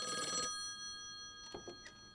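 An electronic phone ringing in a narrative adventure game: a short bright ring burst at the start, followed by softer scattered sounds against a steady hum.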